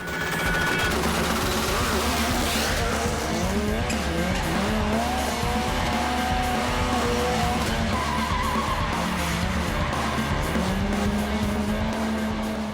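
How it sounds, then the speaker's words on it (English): Ken Block's rally car from the 2010 WRC season speeds past at full throttle, its engine roaring loud and close with rising and falling revs and tire skids, continuous for the whole stretch. "That car goes so quick, just takes off."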